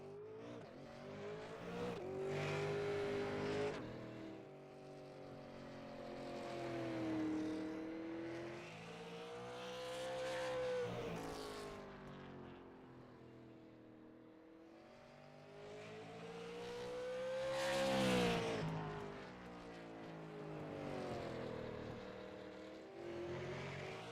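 A race car at a bullring track revs and accelerates, its engine tone rising and falling through repeated gear pulls as it rolls out and passes, fairly distant and steady throughout.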